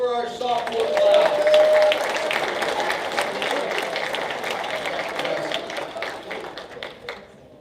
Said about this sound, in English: Let's have a round of applause for our sophomore class.